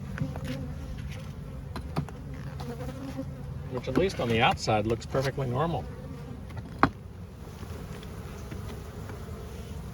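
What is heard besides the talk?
honey bees buzzing at hive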